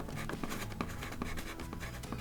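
A pencil scratches across a cardboard box in short, quick strokes, close and quiet, with no talking.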